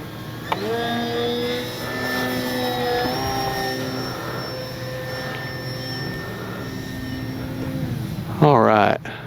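An FMS radio-controlled model airplane flies overhead with a steady, high electric whine that shifts in pitch as it passes, while someone talks over it and another voice briefly cuts in near the end.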